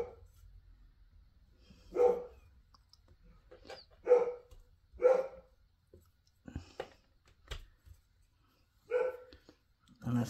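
A dog barks a handful of times at irregular intervals, single deep barks spaced a second or two apart against a quiet room with faint clicks between them.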